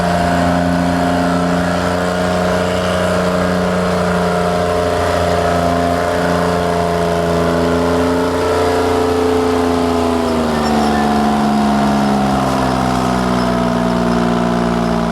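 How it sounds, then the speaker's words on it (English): A loud tractor engine at a tractor pull at a classic truck and machinery show runs continuously, droning and rising in pitch as it revs, with a steady roar throughout. "the tractor pull is a great bit of fun for the boys"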